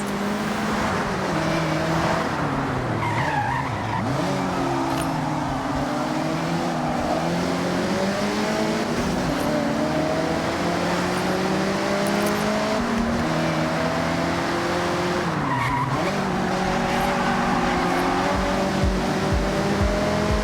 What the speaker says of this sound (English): Drifters like to induce oversteer and send it all the way around